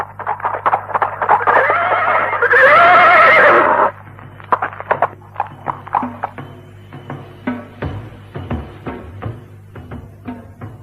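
A horse neighs loudly in a radio drama set in an old Sundanese kingdom, a long whinny near the start, followed by scattered clip-clop hoof steps and soft knocks at a steady, close level.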